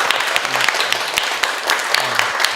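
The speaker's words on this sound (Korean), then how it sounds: "감사의 뜻으로 다 같이 시장님께 큰 박수 부탁드리겠습니다" An audience at a primary school gives a brief round of applause for the visiting mayor of Daegu, with scattered light claps over the short stretch.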